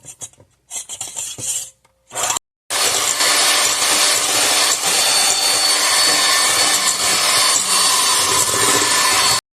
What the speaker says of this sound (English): I have my hand mixer here, and I'm going to beat this until stiff peaks start to form